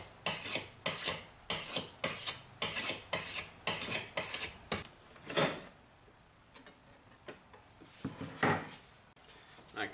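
A hardened steel honer made from an old Sawzall blade scrapes back and forth along a knife blade in quick, steady raspy strokes, close and clear, then the strokes thin out into a few slower, quieter passes.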